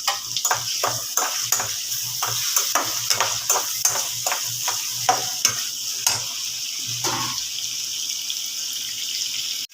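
Onions sautéing in a pan for appalam kuzhambu, stirred with quick regular scrapes over a steady sizzle, close and clear, the strokes slowing and stopping near the end; no talking.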